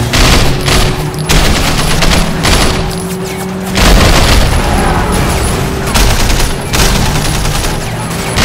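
Mounted guns on a car in the video game Sleeping Dogs fire in sustained loud bursts, dense rapid gunfire with booms, pausing briefly around the one- and four-second marks before resuming.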